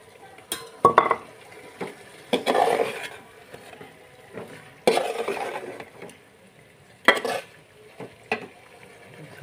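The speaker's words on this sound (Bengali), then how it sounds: "এই যে এখন আমি আলু দিয়ে দিব," Fried potatoes going into a pan of chicken curry and being stirred, with several bursts of scraping and clinking from a spoon against the pan, separated by quieter pauses with a soft sizzle underneath.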